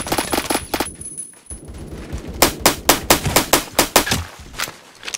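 Rapid gunfire in a video game: a quick burst of shots, a short pause, then a loud, evenly spaced string of about a dozen sharp reports, close and dominant, with no talking.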